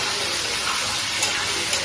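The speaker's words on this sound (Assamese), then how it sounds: "এইখিনি এটা ভাজি লওঁ" Taro frying in a pan with salt and ground garlic, giving a steady, close, even sizzle that continues throughout without pause.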